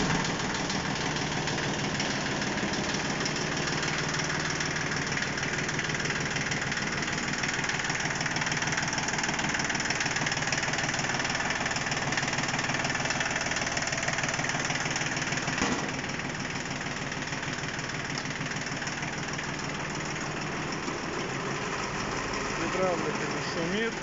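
Japanese diesel tractor engine with a soil tiller idling steadily, a continuous close rumble with a fine rapid knock throughout and no change in pace.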